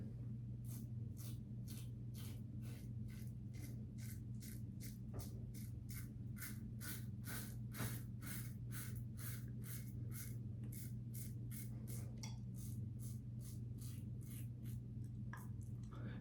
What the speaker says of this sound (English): I'm sure you guys can hear my hair being cut.